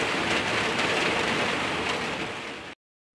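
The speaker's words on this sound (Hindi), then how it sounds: "इतना तेज बारिश शुरू हो गई नीचे" Heavy rain pours down outside a home, a dense, steady hiss of water hitting surfaces that holds loud and even for nearly three seconds before cutting off abruptly into silence.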